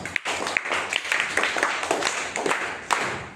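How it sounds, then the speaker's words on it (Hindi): Classroom clapping follows a school prayer recitation, a steady patter of many small hands with occasional sharper claps standing out, sustained through the whole stretch with no voices over it. "एक बार ताली बजाइए"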